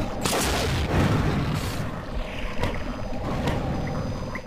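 Rocket explosions from the video game Unreal erupt as several heavy booms with rumbling tails, one big blast early and sharper hits later, layered over game ambience without speech.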